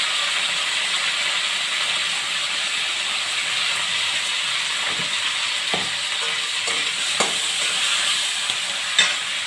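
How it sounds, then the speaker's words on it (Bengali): Potatoes and cauliflower with turmeric fry in hot oil, a steady loud sizzle and hiss running throughout, with a few soft stirring knocks and scrapes near the end. "তেলটা গরম হয়ে গেছে আমার। এখন আমি এখানে প্রথম আলুগুলোকে ভেজে নেব।"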